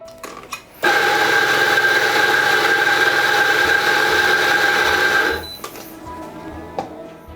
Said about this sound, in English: And now your grinder should give you exactly 17 grams of coffee.